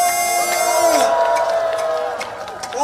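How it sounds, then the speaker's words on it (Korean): A crowd at an outdoor election campaign rally in Yangyang county, Gangwon province, cheers and whoops loudly for a candidate being introduced, with a mass of voices and some clapping mixed with music tones. "박수 소리 질러!"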